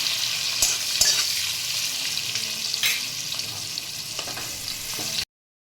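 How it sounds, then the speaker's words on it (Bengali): Onion sizzles steadily in hot oil and ghee in a pan for a chicken curry, with a few sharp clicks of stirring before the sound cuts off abruptly. "তেলের সাথে আমি একটু ঘি দিয়ে দিলাম। এবার আমি পেঁয়াজটা দিয়ে দিলাম।"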